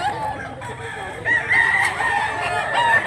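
A prized four-year-old fighting rooster from a sweater bloodline crows loudly and close by on a farm in Mantalungon, Cebu, with a sustained cock-a-doodle-doo rising over light background noise.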